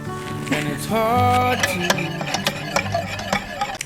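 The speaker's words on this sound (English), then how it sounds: "bring it back to the heat and stir it constantly until thickening" A spoon or whisk stirring custard for an opera cake in a pot over heat, with soft repeated scraping taps against the pan beneath background music.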